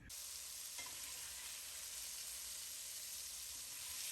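Vegetables stirred and frying in a deglazed pan for a Cajun shrimp, chicken and sausage pasta, giving a steady, close, even sizzle with no voices.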